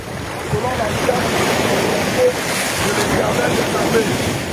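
Ocean surf rolls and washes continuously at a beach baptism in Gabon, a broad steady roar of waves with wind buffeting the microphone and faint voices mixed in.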